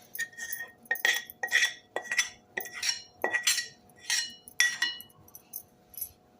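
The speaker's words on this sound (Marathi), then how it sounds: "तर हे सर्व चमच्याने एकजीव करूया." A spoon mixes jaggery and fenugreek powder in a metal vessel with a steady run of sharp clinks and scrapes, about a dozen strokes in even rhythm, close and clear with no talk.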